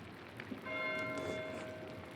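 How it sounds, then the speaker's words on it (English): A monastery bell rings in the video game Pentiment, a struck tone that swells and sustains with a bright ringing hum over soft background ambience. "Why is Matthew ringing the bell?"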